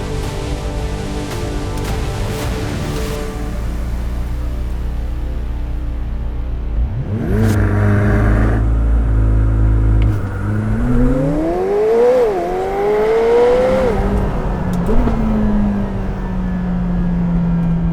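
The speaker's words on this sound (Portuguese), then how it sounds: "A cada troca de relação nós sentimos o poder deste V8." A McLaren 720S V8 sports car pulls hard through the gears, loud rising revs interrupted by quick upshifts, then engine braking and a lower drone as it slows, heard close from inside the cabin.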